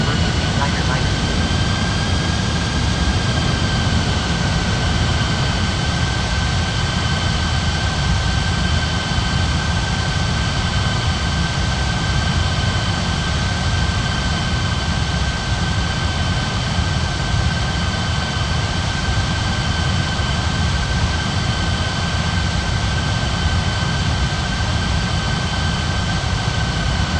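Aircraft jet engines taxiing at an airport in an air traffic control game, a constant loud roar with a steady high whine that runs unbroken throughout, with radio voices underneath.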